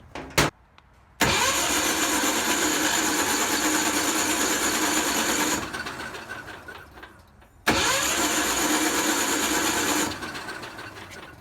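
A welder's small engine running on ether with its fuel cut off cranks in two long loud bursts, a rapid whirring starter churn with sputtering that fades at the end of each attempt, preceded by a sharp click.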